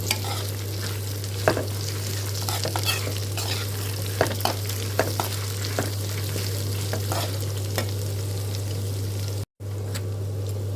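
Ingredients frying over slow-medium heat: a constant sizzle over a steady low hum, with frequent stirring clicks and scrapes, and a short gap near the end.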